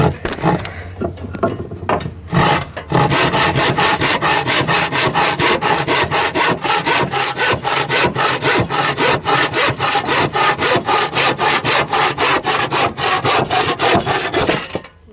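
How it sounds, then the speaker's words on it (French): Wooden deck board being hand-sawn along a marked line: after a few tentative starting strokes, a long run of fast, regular back-and-forth rasping strokes, close and loud, with no talking. "je prends la ici et je coupe sur mon trait"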